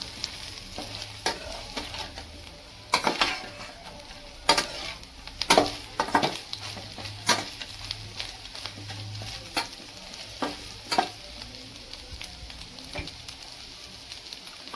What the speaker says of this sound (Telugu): అన్నిటిని బాగా కలుపుకోవాలి. అన్నీ బాగా ముక్కకు పట్టేలా కలుపుకోవాలి.